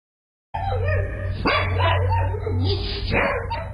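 A caged dog barking and yipping close by, several sharp barks over a continuous hum, with whimpering tones between them.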